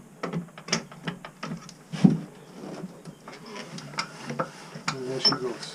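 A seized Volvo Penta MD1B marine engine is turned over by hand with the decompression lever up, giving close, uneven mechanical clicks and clunks of the turning crank, some with a rough metallic rasp and a few heavier knocks.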